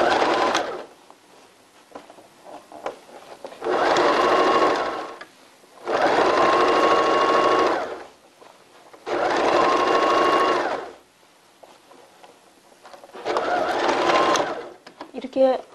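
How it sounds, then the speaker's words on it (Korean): Sewing machine stitching toward the lace edge of women's briefs, in four sustained bursts of steady whirring separated by pauses, close and fairly loud, with a final shorter run at the end. "레이스 끝쪽으로 한 번 더 박음질 하겠습니다"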